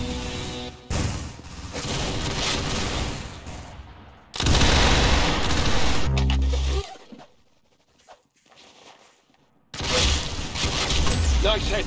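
Gunfire in the Roblox shooter Arsenal: long stretches of dense, loud rapid shooting broken by a short near-silent gap, with a voice talking partway through.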